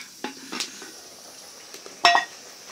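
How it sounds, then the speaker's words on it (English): Vegetables boiling in a pot are stirred in an African village kitchen, with a few sharp scraping clinks of the utensil against the pot and one louder clank near the end over a quiet bubbling background. "So let me stir the vegetables first."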